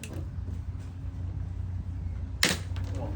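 A chocolate clam shell cracks open with a single sharp snap, standing out briefly above steady low background rumble near the end.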